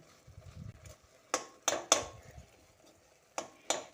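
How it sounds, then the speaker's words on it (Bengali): A spatula mashes boiled whole tomato in a pan, making a handful of short, sharp scraping knocks in quick irregular bursts against a quiet background. "আমি একটা খুন্তির সাহায্যে এইভাবে একটু ম্যাশ করে দিচ্ছি"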